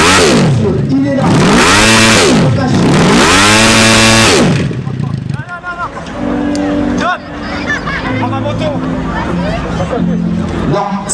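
A hill climb motorcycle's engine screams at high revs on the slope, then cuts out as the engine breaks, leaving crowd chatter and an announcer talking over the background.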